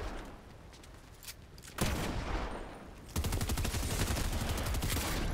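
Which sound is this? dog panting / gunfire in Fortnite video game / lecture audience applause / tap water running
gunfire in Fortnite video game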